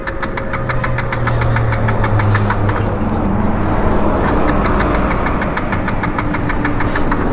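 A KTM Duke 250 Gen3 motorcycle engine idles close by with a loud, steady rumble and a rapid, even ticking that carries through the whole stretch.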